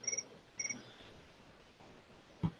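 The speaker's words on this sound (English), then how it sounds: "there's our little crickets telling us 12 minutes is up" A meditation timer goes off with recorded cricket chirps: two short, bright chirping bursts close together at the start, fairly faint in a quiet room, followed by near silence and one soft low thump.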